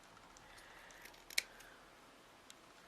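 A single crisp snip of scissors cutting fabric for a heart-shaped pin cushion, faint and close, with a couple of softer clicks around it in a quiet room.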